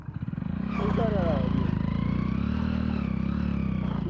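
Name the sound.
motorcycle engine knocking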